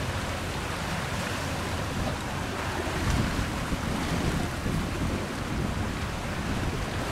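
A high-speed passenger tourist boat pounding through big waves in a stormy sea, with a constant loud roar of wind, water and engine filling the whole stretch and no voices.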